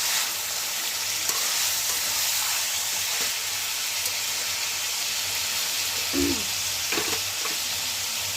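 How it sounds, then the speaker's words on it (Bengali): Chicken for a fenugreek-leaf curry fries in a pan with a constant loud hiss and sizzle, a few soft stirring scrapes and thumps near the end, heard up close without voices. "চিকেনটা নেড়ে নিচ্ছি ভালো করে।"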